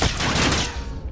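Gunfire in Call of Duty Modern Warfare erupts as a dense, loud burst of rapid shots, close and harsh, filling a brief moment.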